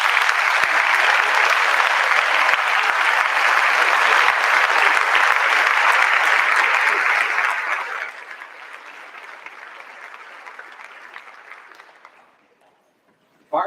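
A staff audience at an end-of-year celebration claps loudly and steadily for about eight seconds, then the applause thins and fades to near silence.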